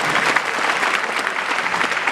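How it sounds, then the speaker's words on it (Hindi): A crowd of students at a coaching institute's speech event gives loud, sustained applause, a dense and even wash of clapping hands with no break for two seconds. "एक बार जोरदार ताली होनी"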